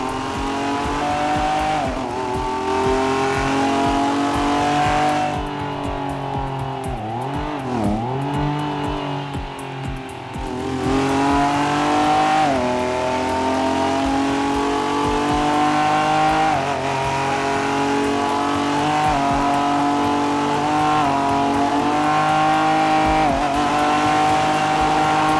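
High-revving sports-car engines in GTA 5 roleplay, a loud sustained engine drone shifting pitch as the cars accelerate and gear through a fast drive, with a brief dip midway and no speech over it.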